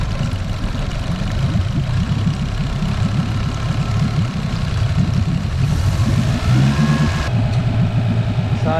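A petrol car engine with freshly cleaned fuel injectors idles just after starting, a loud, close, steady low rumble that runs evenly throughout with no voices.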